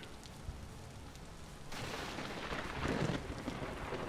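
Thunder rolls in during a stormy Vintage Story game session, a low broadband rumble that swells partway through and stays loud and sustained to the end, with no one talking.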